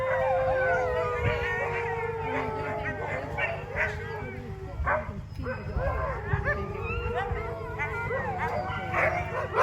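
Sled dogs at a lodge on Eagle Lake, Maine, howl, bark, yip and whimper in a loud, overlapping chorus that runs without pause, the pack clearly restless before a sledding run.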